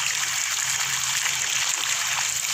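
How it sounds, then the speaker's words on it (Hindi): Water runs and splashes steadily as a child plays in a cool stream of water, a close continuous gushing trickle with no voices over it. "पकड़ो पकड़ो पानी को पकड़ो"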